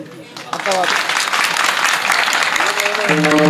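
A kirtan audience breaks into loud sustained clapping that fills the space, with a voice talking briefly before and again as it fades at the end.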